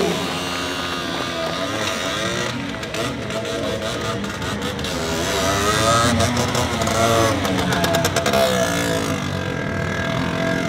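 A stunt motorcycle's engine revs and surges at an outdoor stunt show, its pitch rising and falling through repeated throttle blips, with someone talking over the engine throughout.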